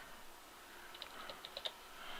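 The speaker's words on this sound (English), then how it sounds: "I'm resizing using the keyboard, but you can resize using the width up here, but using the left or right square brackets" Several quick key presses on a computer keyboard while resizing a brush in Affinity Photo, faint and sparse clicks over a low room hiss with no talking.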